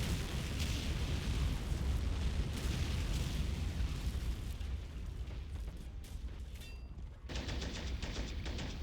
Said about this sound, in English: This tank is called the Calippo, I think, and has rockets mounted on it.